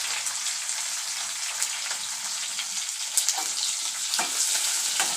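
Coriander sautéing in hot oil for a Marathi chawali (black-eyed pea) bhaji, a steady close crackling sizzle with soft spatula stirs and a few sharper pops.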